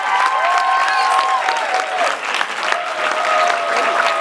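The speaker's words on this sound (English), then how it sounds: "Keep that applause rolling for Kat LeeHong" Audience applause after a comedy set at a university comedy competition, a steady, full wash of clapping with some cheering and whistles, sustained and loud throughout with a brief dip midway.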